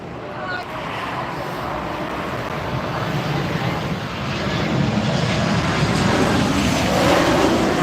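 A Jet2 airliner at Newcastle Airport on a crosswind day gives a steady, broad engine roar that swells louder as it nears, mixed with gusty wind noise on the microphone.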